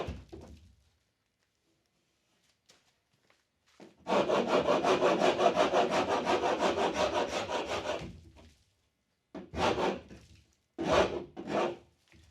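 Scraping texture off a primed wall surface, a loud steady rasping scrape for about four seconds after a near-silent start, followed by several shorter, separate scraping strokes.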